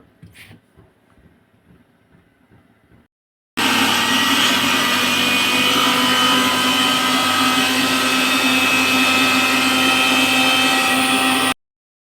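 A kitchen mixer grinder whirs loudly and steadily for about eight seconds, grinding green chillies, coriander and garlic for okra chitranna. Soft handling sounds come first, then a brief pause before the motor starts.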